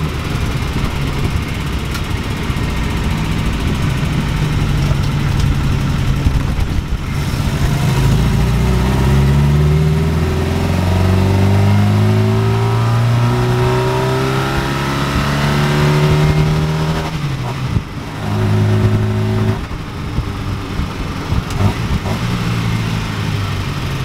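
A 1969 Ford Capri's engine drones through a test drive, with steady cabin road noise and rising and falling revs as the car accelerates through the gears, loud and close throughout with no talking.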